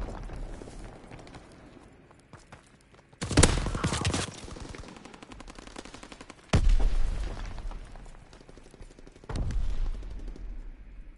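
Shotgun gunfire in Call of Duty WWII multiplayer: loud, heavy blasts crack out around 3.5, 6.5 and 9.5 seconds over a constant bed of distant battlefield gunfire and rumble.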